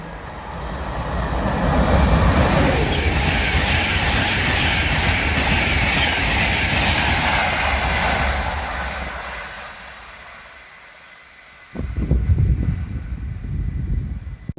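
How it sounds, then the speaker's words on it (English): A train passes through Chester-le-Street station, a loud sustained roar with rail hiss that builds, holds for several seconds and then fades away, followed by a shorter burst of rumble near the end. "There comes another train to Newcastle."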